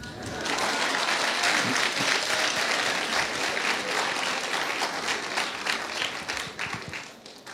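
Students in a university forum audience clap loudly and continuously, a dense burst of applause that holds steady and tapers off near the end.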